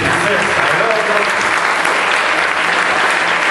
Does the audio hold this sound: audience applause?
yes